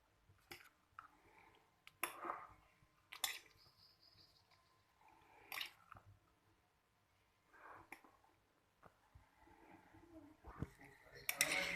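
Fried potatoes and onions being mixed in a bowl for a Spanish omelette, with soft scraping and clinking of a spoon against the dish in irregular bursts, fairly quiet, with someone talking between them.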